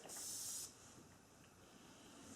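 A makeup setting mist bottle gives a single short, bright spray hiss of about half a second close up. A quiet room hush follows.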